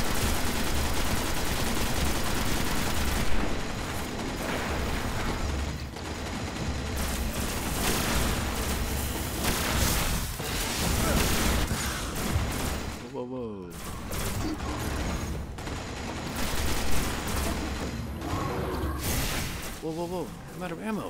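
Sustained gunfire and explosions from the shooter game Destiny during a Mars strike fight against Valus Ta'aurc, dense and continuous, with a player talking over the combat.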